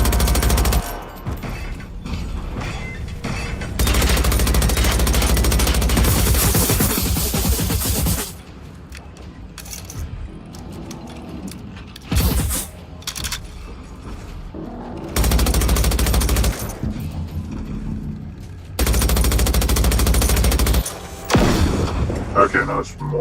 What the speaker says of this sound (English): I have a machine gun too